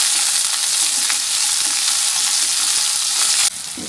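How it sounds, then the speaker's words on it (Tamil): Onions fry in hot oil with popped mustard seeds in a pan for a Pallipalayam dish, a loud, close, unbroken sizzle that drops suddenly in level near the end, no speech. "நாம் வெங்காயம் போடலாம். கொஞ்சம் வெங்காயம் வதங்கட்டும்."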